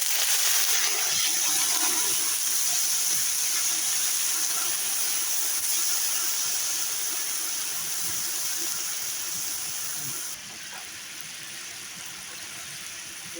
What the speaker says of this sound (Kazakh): Endi buған mіндетті түрде қайнаған су құю керек.